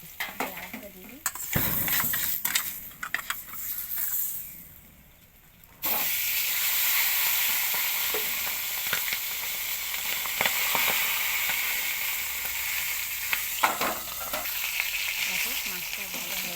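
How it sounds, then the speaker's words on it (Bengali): Fish fries in hot oil. A quieter stretch with handling noises and a voice gives way to a loud, steady, close sizzle that carries on to the end, with occasional utensil knocks and brief speech. "দেখো মাছটা ভাজা হয়ে গেছে, এবার তুলে নেব।"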